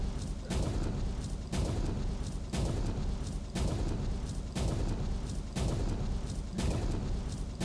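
Heavy explosive blasts from an artillery barrage in the mining game Out of Ore, about seven loud booms arriving at a steady rhythm roughly one second apart, each rolling into the next, with no talking.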